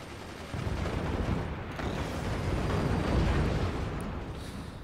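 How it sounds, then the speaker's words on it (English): Swarm missiles slam into a wooden fort in the Forts strategy game, a dense, roaring barrage of overlapping impacts and explosions that rumbles on continuously with no pause. "Another hit from Team 2 swarm missiles."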